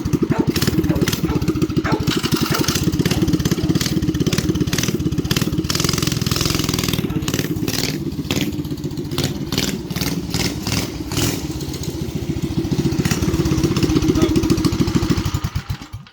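A modified 212cc Predator small gas engine with bigger exhaust and carburetor runs steadily at close range, its loud buzzing drone wavering slightly in pitch throughout with no pauses.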